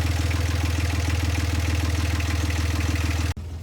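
A sailboat's engine idles at anchor, a close, steady rhythmic chugging with regular pulses, loud and even, then cuts off abruptly near the end leaving quiet.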